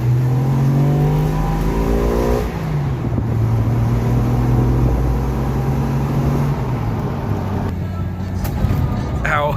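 A car engine revs up and then engine-brakes, its pitch rising and falling in steady sweeps, loud and close with continuous road and wind noise underneath.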